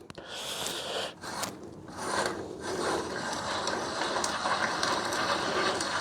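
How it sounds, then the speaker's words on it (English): A tap cutting a thread into metal on a Briggs V-twin engine part, producing close, irregular scraping and ratcheting clicks with brief pauses between turns. "So now we're just making a thread that bolt can go into"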